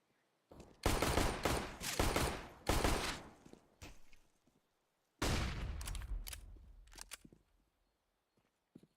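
Counter-Strike pistol gunfire in a competitive match: a rapid run of sharp, loud shots in bursts, a pause, then another dense volley trailing off into scattered single cracks.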